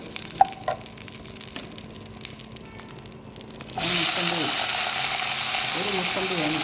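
Ghee hits a hot kadai for a pineapple and mosambi payasam and bursts into a loud, steady sizzle partway through, after quieter clinks and handling. A person speaks over the frying.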